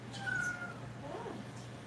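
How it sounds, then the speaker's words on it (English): A cat gives a couple of short meows indoors at home, fairly faint and close over a low steady background hum, with no talking. "So now you hear cats."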